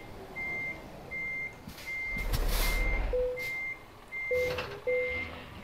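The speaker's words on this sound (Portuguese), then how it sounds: "Alinhei meu caminhão, agora eu dou uma resinha marotinha." Steady, evenly spaced reversing beeps from a truck backing up in Euro Truck Simulator 2, moderately loud over a low engine rumble, with a short burst of louder engine noise in the middle and no speech.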